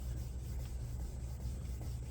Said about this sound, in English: They also give you some sandpaper to use, or a little sanding block